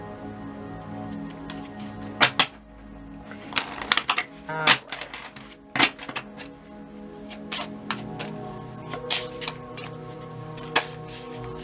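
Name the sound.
shuffling oracle deck cards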